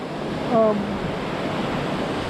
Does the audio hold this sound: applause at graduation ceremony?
no